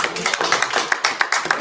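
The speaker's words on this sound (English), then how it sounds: "let's give her a round of applause" A live audience at a Kwanzaa community celebration at the McCall Neighborhood Center claps in a steady, moderately dense round of applause, close and lively throughout.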